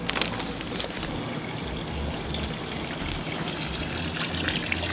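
Water steadily gushes and trickles from a small hole in a giant water bag, a continuous close splashing flow with no voices.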